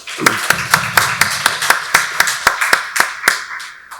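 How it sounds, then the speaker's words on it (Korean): Congregation applauding during a Sunday church service, with steady rhythmic hand claps roughly every quarter second, fairly close and clear, fading slightly at the end. "박수로 하나님께 영광 돌리겠습니다"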